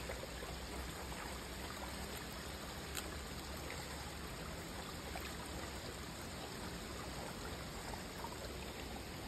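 A flowing stream of water rushes steadily and evenly throughout, faint and continuous, with no voices.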